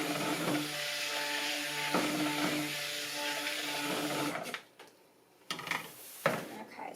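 A stick blender whirs steadily while mixing cold process lemony lavender soap, a sustained motor whine with a few light taps, then cutting off near the end to quieter handling noises.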